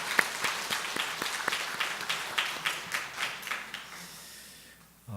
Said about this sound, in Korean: 우리 한번 박수 한번 하겠습니다.